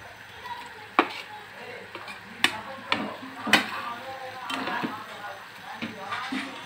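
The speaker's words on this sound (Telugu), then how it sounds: "ఇప్పుడు మనం బ్రింజల్ వేసుకుందాం." Brinjal (eggplant) pieces stirred in a spiced pan for a curd curry give a soft, steady sizzle, cut by sharp spoon-on-pan clacks at irregular moments.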